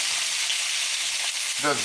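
Sesame oil sizzles and crackles steadily in a Lodge cast iron wok, a loud, close hiss that holds throughout, with a short clatter near the end.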